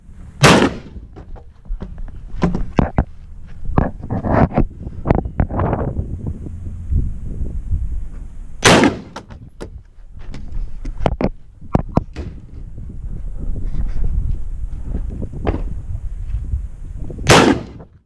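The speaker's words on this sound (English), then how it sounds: "we fired one round through each port of the VTAC barricade at the center A zone of a standard USPSA target at 50 yards" Rifle shots fired one at a time through the ports of a VTAC barricade at a 50-yard target during a tactical rifle match outdoors, loud sharp cracks spaced several seconds apart, with wind buffeting and handling noise between them.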